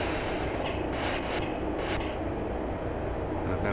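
A diesel train coasts with power idled in a train simulator game, a Class 143 on the Exmouth to Exeter St Davids route, rolling along with a steady rumbling hum and intermittent higher clatters, the engine noise constant and moderately loud throughout.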